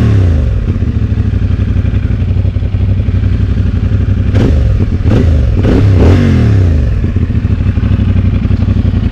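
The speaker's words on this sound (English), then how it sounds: "we'll just walk up and give it a couple small revs" A CFmoto 450SS motorcycle idles close up, then gets three or four short, sharp throttle blips that rise and fall quickly before it settles back to a steady idle. No one talks.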